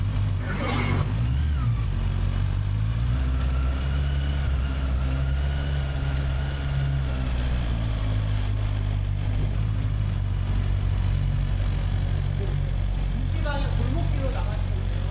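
A Honda CB650R E-Clutch motorcycle engine hums steadily with rising and falling revs, a continuous close mechanical drone with wind noise, while a rider speaks over it.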